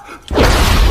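A house blows up in a sniper action film, a brief quiet giving way to a sudden, loud, booming blast that stays heavy and rumbling to the end.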